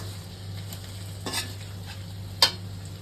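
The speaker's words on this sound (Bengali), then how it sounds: "পেঁয়াজটা দিলাম, ভালো করে কষিয়ে নেব পেঁয়াজটা।" Onions frying in a pan for a Bengali prawn malai curry, a steady low sizzle with a couple of sharp scrapes from a stirring utensil against the pan.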